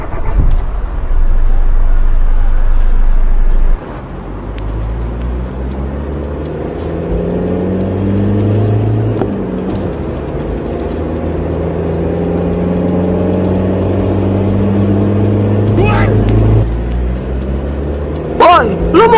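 Engine of a car driven in the video game Sakura School Simulator, droning steadily and then rising in pitch as it accelerates, loud and continuous, with voices at points.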